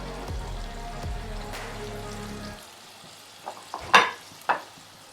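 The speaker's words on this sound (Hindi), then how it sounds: "लाइट गोल्डन ब्राउन सा फ्राई कर लेंगे" Chicken tenders fry in hot oil, a steady moderate sizzle for about two and a half seconds that then stops, followed by a few sharp handling clicks and knocks in near silence.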